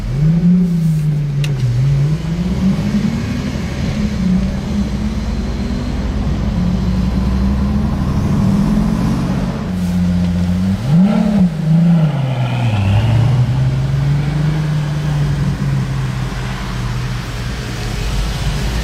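A Pagani Utopia supercar in Monaco drives nearby with a steady engine drone that rises and falls as it revs and accelerates, loud and continuous, amid street background with no talk.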